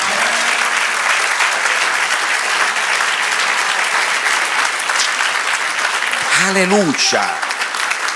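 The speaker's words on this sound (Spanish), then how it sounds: "Dale un aplauso al Señor." Church congregation applauding steadily throughout, a dense, loud wash of clapping, with a voice calling out briefly near the end over it.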